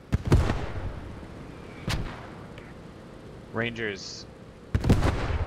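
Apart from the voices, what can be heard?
incoming Axis mortar fire in video game Post Scriptum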